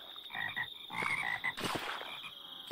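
Frogs in a water biome of Minecraft Crazy Craft 1.16.5, croaking in a quick series of short chirping calls over a faint high insect-like hum, with a louder splashy burst midway.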